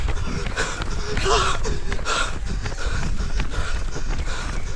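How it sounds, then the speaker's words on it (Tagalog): Heavy, rasping breaths from a runner climbing a steep uphill stretch during a road race leg in Bagac, Bataan, heard up close over continuous rustling movement and outdoor noise. "Hingal na hingal."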